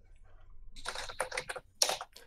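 Keyboard typing comes through a voice call during a tabletop role-playing session: irregular clusters of keystrokes, fairly close and crisp, with one louder burst near the end and no talk over them.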